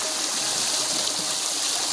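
Water rushes like a swollen stream after heavy monsoon rain, a dense, steady, hissing flow that stays close and even throughout, with no voices.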